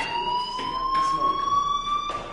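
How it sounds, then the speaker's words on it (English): A fire alarm rings indoors as one continuous, piercing electronic tone with a few brief louder pulses. It holds steadily at moderate loudness for the whole short stretch. "do you hear that fire alarm?"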